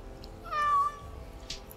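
A cat in the video game Dragon Age: Origins - Awakening gives one short, clear meow, with a faint ambient hum around it.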